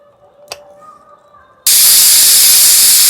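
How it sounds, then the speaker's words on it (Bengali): Pressure cooker holding potatoes boiled in salted water for mutton biryani suddenly bursts into a loud, steady steam hiss after a quiet stretch with a brief click, the sharp rushing release continuing to the end. "প্রেসার কুকারে মোট তিনটে সিটি দিয়ে নিয়ে এসে এবার নামিয়ে নিচ্ছি"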